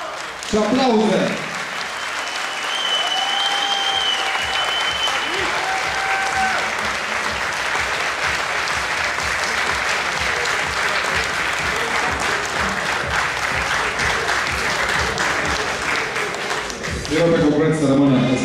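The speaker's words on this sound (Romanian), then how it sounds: "Și aplauze!" Steady, loud applause from the audience at a bodybuilding and fitness contest in Timișoara greets the competition winner, filling the hall for most of the stretch with a few voices and music threading through before it fades briefly near the end.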